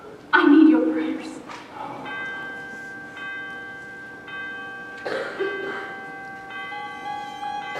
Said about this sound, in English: The cathedral bell summons us.